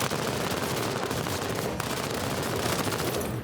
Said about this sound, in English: Into cover, and let's get some suppressing fire.